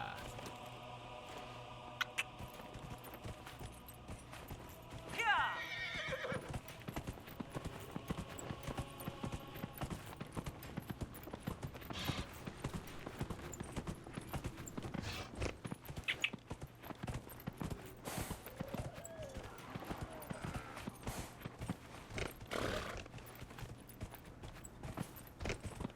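A mounted horse in the Dragon Age: Inquisition video game trots with steady clip-clopping hoofbeats that continue throughout under quiet game ambience, with a brief, stronger horse sound near the start.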